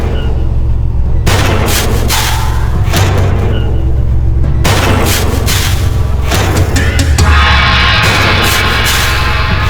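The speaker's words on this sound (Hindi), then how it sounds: "सिंगल शॉट कट्टा।" A single-shot country-made pistol fires amid loud, dense background noise, with several sharp broadband bursts standing out over a constant low rumble throughout.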